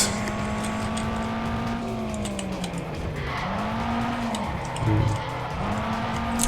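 A car drifts in the racing game Overspeed, its engine note wavering and sliding in pitch as the tires squeal through the slide, loud and continuous with a brief rev near the end.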